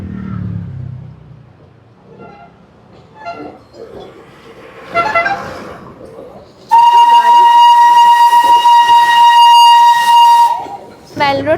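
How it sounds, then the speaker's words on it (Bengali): A Darjeeling toy train lets out a single loud, sustained steam whistle lasting about four seconds, sounding alone after quieter street noise. "toy train"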